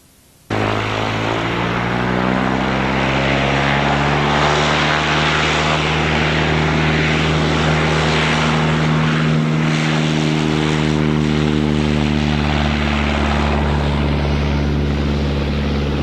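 A propeller-driven model airplane in Grumman style flies at Ruth Ranch, its engine droning loud and steady with a rising and falling pitch as it passes near, with no talk over it.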